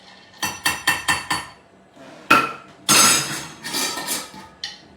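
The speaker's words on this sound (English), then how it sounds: "You have to be sure to have a big spoon to stir it." A big spoon stirs iced tea in a glass pitcher, giving a quick run of five sharp clinks against the glass, then a louder knock and a longer jangling, rattling swirl, close and loud with no voices.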